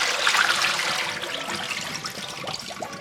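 Tap water runs steadily while lettuce and kale are rinsed in a kitchen, a soft continuous splashing trickle with faint irregular spatters, fairly quiet and close.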